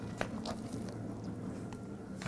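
Close, faint bites and crunches of a shrimp burger come in a few irregular bursts over a low room hum, ending with a louder crunch.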